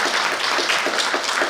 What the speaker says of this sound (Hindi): तो मैं चाहती हूँ एक बार ज़ोरदार तालियां मेरे मोहतरम के लिए।